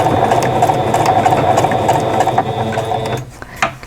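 A sewing machine stitches a quilt block made with Angelina fibers, running in a steady close mechanical whir that stops near the end, followed by a few faint clicks.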